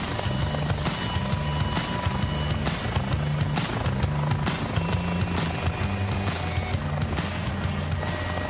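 An aircraft flying in over a city in Microsoft Flight Simulator at a crowded gaming expo booth, a loud sustained rotor-like engine drone with rhythmic beating, blended with busy hall noise.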